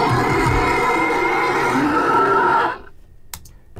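A monster voice designed for the game Borderlands 2 blends a polar bear's deep growl with a horse's whinny into one loud, harsh bellow, then cuts off into quiet with faint clicks; no talking.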